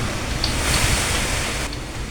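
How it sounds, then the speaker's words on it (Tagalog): Strong typhoon wind roars steadily with a dense wash of heavy rain, a loud, continuous broadband rush with no voices. "lakas ng ulan, pati hangin"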